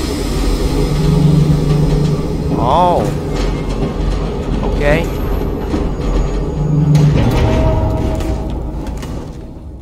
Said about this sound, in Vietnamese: Ok, train's got power. Let's find the controls and see if it moves.